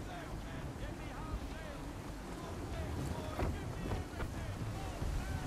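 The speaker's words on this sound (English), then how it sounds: "That wind will push us hard up those rocks!" Steady wind rushes and buffets over a sailing ship at sea in the Assassin's Creed III video game, with waves and hull noise beneath and occasional voices mixed into the gusting roar.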